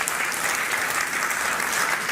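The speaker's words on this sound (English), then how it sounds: "I think we should give our speakers a big round of applause" Audience applause for speakers at a European Space Agency event for the Meteosat Third Generation satellite launch, a steady, loud wash of clapping from a large crowd throughout, with no voices over it.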